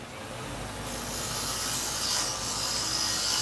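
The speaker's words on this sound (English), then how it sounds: "Using the roughing gouge." A roughing gouge scrapes against a small wooden keychain blank spinning on a lathe, giving a steady close hiss that grows harsher and brighter after the first second.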